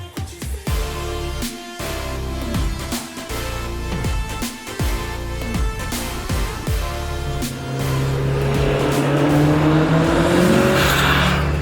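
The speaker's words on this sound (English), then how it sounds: "Let's go drive this absolutely stunning example of what an SW20 turbo can be." A 400 hp Toyota MR2 SW20 turbo, mid-engined, drives and accelerates, its engine revving up and down through several gear changes before settling into a louder, sustained pull with rising pitch.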